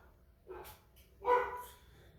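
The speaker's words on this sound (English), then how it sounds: "Don't mind my dogs barking in the background" Dogs barking somewhere off in the background, two short separate barks with quiet between them.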